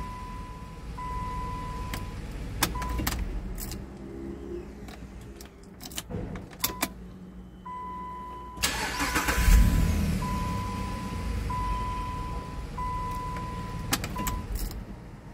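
A Jeep Liberty with an intermittent no-start fault turns over and fires up in a repair shop, amid jangling keys, dash warning chimes and clicks, then settles into a running idle; close-miked with no speech.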